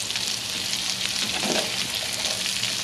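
Onions dropped into a hot frying pan, a loud steady sizzle with crackling spatters, close up and continuous.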